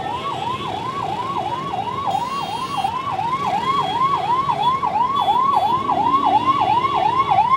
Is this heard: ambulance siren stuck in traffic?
yes